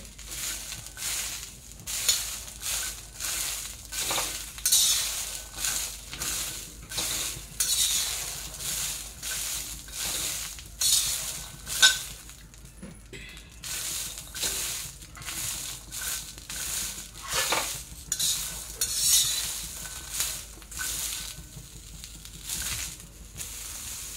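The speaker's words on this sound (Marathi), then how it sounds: "आता आपल्याला हे वाटाणे आहे ना, हे भाजून घ्यायचे आहे। असं डाग पडेपर्यंत भाजायचे आहे।" Green peas dry-roasted in a pan for a spicy thecha, rolling and rattling as they are stirred repeatedly, with rhythmic scraping bursts and light crackling throughout, close and alone.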